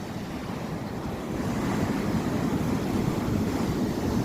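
Strong sea waves surge and churn continuously out on open water, a loud, steady roar of surf mixed with wind buffeting the microphone, swelling louder after the first second.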